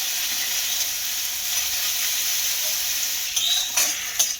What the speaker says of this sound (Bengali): দিয়ে এইটাকেও টমেটোর সঙ্গে ভালো করে কষিয়ে নেব।